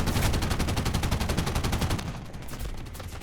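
A 20mm aircraft cannon fires in War Thunder as a rapid, evenly spaced stream of loud, heavy thuds, a sustained burst that eases slightly in level toward its end.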